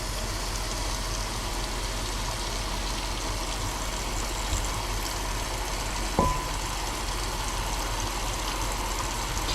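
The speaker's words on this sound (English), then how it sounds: "take this and you just pour some water into it" Water is poured into a pot while Shin Ramen with beef and bok choy is being cooked, a faint, continuous trickle over low background hum with one small clink partway through.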